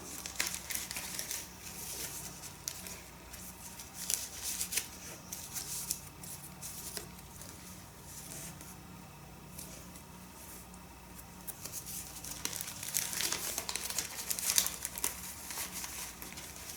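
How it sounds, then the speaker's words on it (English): Paper and vintage ephemera crinkle softly as a journal is flipped through, with quiet rustles, crumples and page shuffles that continue in a faint, close, uneven patter. "Crinkle, crinkle."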